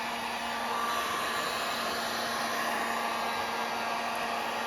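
A heat gun blows with a constant, even whir close by, heating a plastic part stuck on a bolt so it softens.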